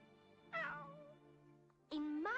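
A cat meows twice, a long drawn-out call followed after a pause by a louder, sharper meow, close by over a low steady background hum.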